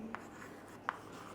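Handwriting on a board or paper while a chemistry lesson on SN1 reactions is written out: two faint, brief scratchy strokes, quiet and close, with no talk.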